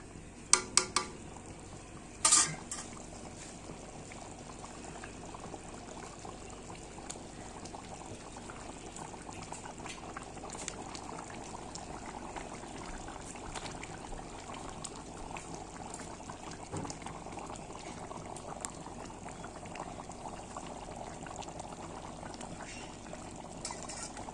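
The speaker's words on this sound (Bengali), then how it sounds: "এই দেখো ডিমের ঝোল কিন্তু জাল হয়ে গেল।" Egg curry broth boils in a pan, giving a faint continuous bubbling simmer over most of the stretch, with a few sharp clinks near the start.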